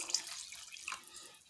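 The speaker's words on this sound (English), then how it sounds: "Added a can of water." A can of water is poured into a pot of tomato sauce for vegan alcapurria, giving a brief, soft splashing trickle, close and fairly quiet, with no voices.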